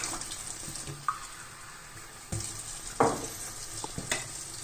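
Water poured into a hot pan while cooking pesaripappu (green gram dal), giving bursts of loud sizzling with stirring and splashing in between, no talking.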